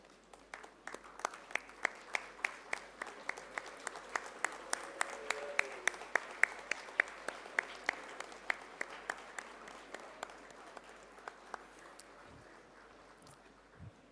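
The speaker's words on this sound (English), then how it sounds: "stand up and then clap for this institute, for your professors and also your proud parents" A graduation-ceremony audience applauds steadily for the institute, professors and parents, dense clapping sustained for about twelve seconds before tapering off, with a faint voice underneath.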